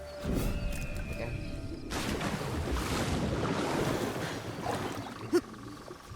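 Water in the Assassin's Creed Shadows video game, a steady rushing wash that swells and holds for several seconds with a soft background hum and a brief click near the end.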